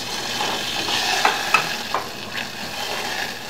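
Whole butter melts and sizzles in a pan for a lobster mac and cheese sauce, a steady close frying hiss broken by a few sharp clicks of a utensil stirring against the pan, with no talking.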